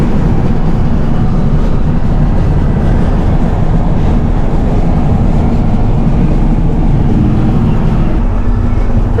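A hot rod cruising at about 1,500 RPM with its vent windows open fills the cabin with an unbroken, heavy rumble of wind and road noise, loud and close throughout, with no talking.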